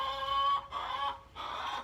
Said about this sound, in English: Sorry, these chickens are loud.